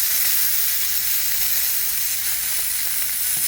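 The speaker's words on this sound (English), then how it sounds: "you want to sear around the edges" Filet mignon steak searing in a hot pan, a steady, bright sizzle hissing continuously at close range with no pauses.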